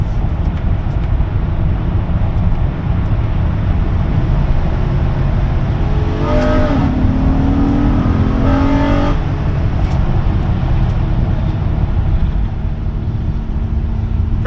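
A Honda Odyssey V6 with VTEC and its air filter removed, running inside a tunnel: a steady engine drone with a rising rev in the middle, then easing back, with no talk.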